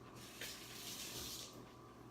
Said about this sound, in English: I'm gonna wash this off.